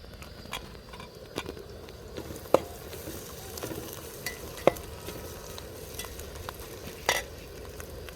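Green chillies frying with sautéed onions for a murrel fish curry, a soft continuous sizzle broken by sharp scrapes and clinks of a spoon stirring against the pan, no talking.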